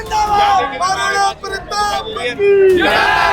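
A large protest crowd at Jantar Mantar in Delhi chants slogans for a UGC rollback, loud and close, with rhythmic shouted phrases and rising cries over a babble of voices.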